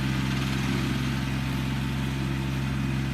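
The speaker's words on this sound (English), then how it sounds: "I don't think it uses more than about 8-10 horsepower of the tractor to cut" An Enorossi BFT 150H sickle bar mower runs on a Kubota BX compact tractor, giving a loud, steady, unbroken engine drone with low mechanical hum throughout.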